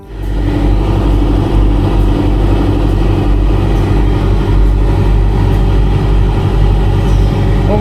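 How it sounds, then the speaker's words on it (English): Boat motors idling after startup as they warm up, a loud steady low rumble with a throbbing pulse that holds constant throughout. "What we've done now is started the motors and we're just going to let them warm up to their top temperature"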